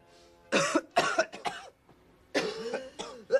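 Several harsh coughs in two bursts, close and loud, with a short quiet gap between them.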